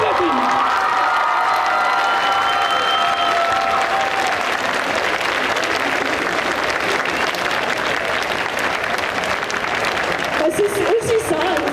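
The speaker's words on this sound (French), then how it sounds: "un putain de tonnerre d'applaudissements pour Mélissa et toute la team" Audience applause at a cosplay parade during the Angers Geekfest 2024 event, a loud sustained burst of clapping with some cheering that fills the clip before tapering off near the end.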